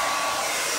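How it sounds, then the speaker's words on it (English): A hair dryer blasting on its high setting, a loud, steady broadband whoosh of air that holds constant throughout the brief moment. "turn on this dryer here and turn it on with high"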